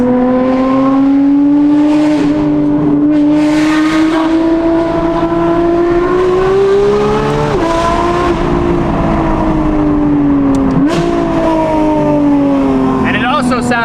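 Porsche GT3 RS fitted with a Valvetronic Designs RSR race exhaust, valves deleted, heard from inside the cabin with windows up as a loud, continuous engine drone that rises and falls steadily with small throttle shifts.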